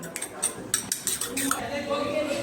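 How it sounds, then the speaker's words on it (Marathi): An egg is beaten in a bowl while making chicken chilli, with a quick series of sharp clinks and taps of a utensil against the bowl. Some soft voice is heard under the last part. "हे अंडा आपण घेतलेलं आहे ना तर हे मी चांगलं असं फेटून घेते"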